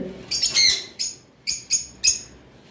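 Albino lovebirds give a burst of shrill, high chirps followed by four short separate calls, close and clear with no talk.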